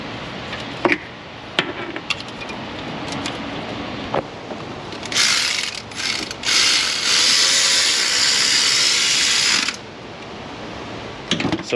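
A ratchet drives a 10 mm bolt on the cam sensor of a Ford 5.4 Triton engine, giving fast, loud, continuous clicking bursts near the mic with brief pauses between runs.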